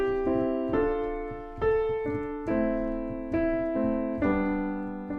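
A root-position chord with G as the top note, played repeatedly on a piano-like instrument in a steady series of six or so struck chords, each ringing briefly and decaying, with no talking over it.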